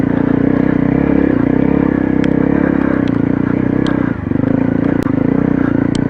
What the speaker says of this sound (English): As you can probably tell by the note of the bike, I've just been climbing and climbing and climbing.